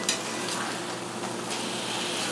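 Thai cilantro lime chicken sizzling in a pan after being flipped, a steady, soft frying hiss with faint crackles and a few light clicks, no speech.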